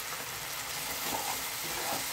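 Paneer pieces with a pinch of Kashmiri chilli sizzling in a hot pan, a steady close frying hiss for a couple of seconds with no voices.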